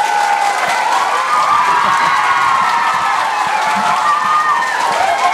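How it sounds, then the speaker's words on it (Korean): Lecture audience at an offline interview-prep class in Korea clapping and cheering together, a loud, steady wash of applause with scattered shouts and whoops throughout, no pauses. "박수 쳐보세요 한번."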